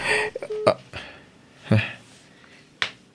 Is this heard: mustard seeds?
no